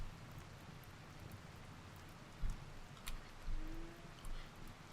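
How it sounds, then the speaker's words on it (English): Steady rain in a colony-building video game, a soft even patter that fills the whole stretch, with a few brief low thumps and a short faint tone partway through. "The rain will stop."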